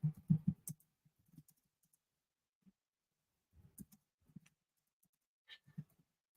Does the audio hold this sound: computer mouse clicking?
yes